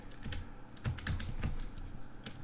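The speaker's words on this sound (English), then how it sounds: "I'm typing off screen right now." Rapid typing on a computer keyboard, soft irregular clicks and key taps in quick runs, fairly quiet and close, with no talk over it.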